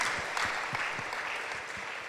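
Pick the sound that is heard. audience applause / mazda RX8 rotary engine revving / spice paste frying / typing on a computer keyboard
audience applause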